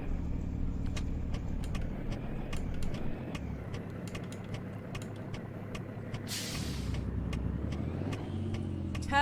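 Truck engine in American Truck Simulator pulling up to about 30 mph, a steady low drone with rising harmonic tones, repeated sharp clicks throughout and a brief hiss burst near the end; no talking.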